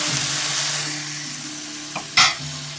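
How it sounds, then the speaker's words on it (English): Kale stirred into a pan of frying drunken pork noodles, a steady sizzle with soft scraping and a couple of louder clacks of the utensil near the end. "So you add the kale and stir it"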